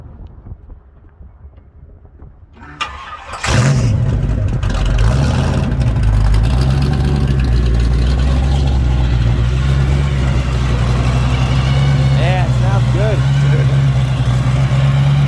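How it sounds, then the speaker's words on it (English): A 1939 Ford coupe's supercharged 468 engine with an 871 blower cranks and catches, then settles into a loud, steady, rumbling idle with a deep throaty drone close by, while people talk faintly over it. "Can't beat the sound of a blower."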